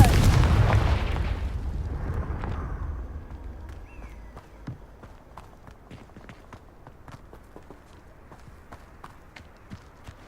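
Confringo blasting spell from Hogwarts Legacy erupts in a loud, booming blast with a heavy low rumble that fades over a few seconds, leaving sparse crackles, scattered clicks and faint debris sounds behind.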